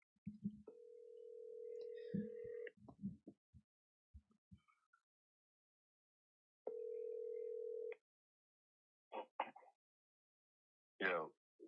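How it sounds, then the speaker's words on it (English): A phone call placed on speakerphone: two long steady ringback tones a few seconds apart, with brief clicks and short bursts of a distant voice between them, then faint crackly bursts at the end. "I'm calling Danks on speakerphone too"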